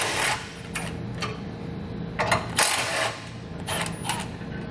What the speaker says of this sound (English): We're going to grab a 13mm socket and pull all 4 bolts out.